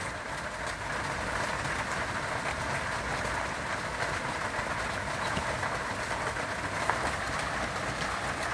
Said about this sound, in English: Nothing like rain on a tin roof.